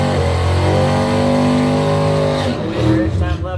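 Drag race cars launch side by side at a drag strip with loud, sustained revving engine roar that cuts off and fades as they pull away, no talk during it.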